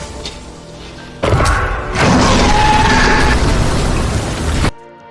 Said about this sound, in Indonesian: Sekaligus dia melakukan bom bunuh diri.